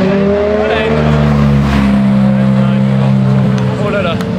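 A race car goes by on a track during an overtake, its loud engine holding a steady sustained tone under close, excited talk.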